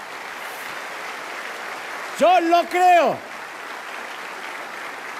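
A church congregation keeps up a steady wash of applause throughout, as someone briefly speaks over it midway.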